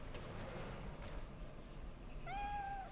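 A cat in the Cyberpunk 2077 video game gives a single short, clear meow near the end, heard over a quiet, steady game ambience.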